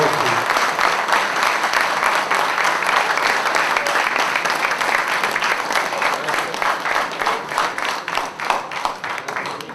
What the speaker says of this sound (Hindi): आपकी तालियां इस बात की गवाह हैं